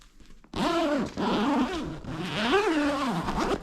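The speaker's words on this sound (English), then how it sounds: "The zipper may sound a little bit louder than what it really is, just because I'm in an unfinished basement" The zipper on a Prevue 3 ground blind is pulled in three separate drawn-out passes, each a buzzy, whining rasp that rises and falls in pitch. It is close and fairly loud in an unfinished basement.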